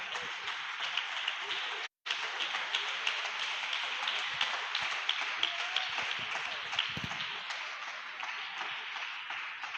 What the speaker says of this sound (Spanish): Yo no sé si usted puede brindarle un aplauso al Señor en esta hora.